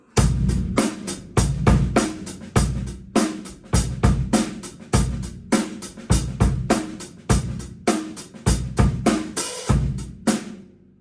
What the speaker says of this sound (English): I just did a hi-hat opening